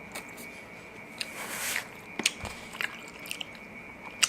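Someone chews Chapaguri noodles with sirloin beef up close, with soft wet mastication and a few sharper bites and smacks spaced through the quiet.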